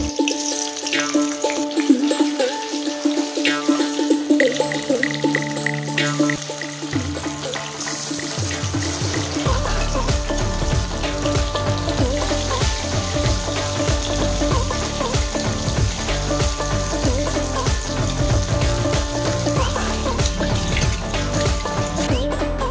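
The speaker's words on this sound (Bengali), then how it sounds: "তেল গরম হয়ে গেছে, মাছগুলো দিয়ে দিচ্ছি।" Fish sizzling in hot oil in a wok-style pan, a dense, steady crackling hiss that swells after the fish goes in and holds on loudly and evenly to the end, with no talking.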